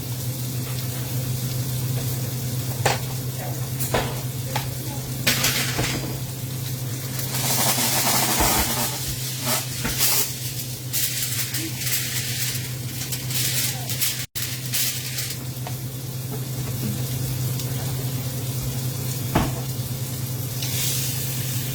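Pork ribs sear meat side down in a pan on a stovetop, giving a steady close sizzle that runs the whole time, with occasional sharper crackles and pops over a constant low hum.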